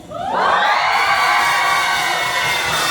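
Church congregation at a crossover conference shouting and cheering on request: a loud, sustained roar of many voices that swells quickly and holds steady.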